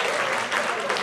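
Brief burst of applause from an audience at a party event, steady dense clapping that fills the moment, with faint voices mixed in.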